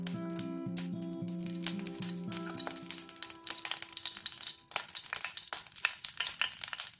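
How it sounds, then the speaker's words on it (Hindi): Two spoons of mustard oil sizzle in a hot pan over a high flame, a crackling, spitting fry with sharp pops and a steady hiss under a background musical tone, fairly faint and without speech. "अभी पैन को गरम करके हाई फ्लेम में 2 चम्मच सरसों का तेल डालिए।"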